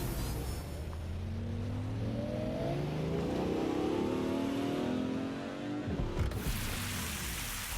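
A car in the video game Watch Dogs Legion pulls away, its engine rising steadily in pitch as it accelerates, fairly loud and continuous under a steady background hiss, then cutting off near the end.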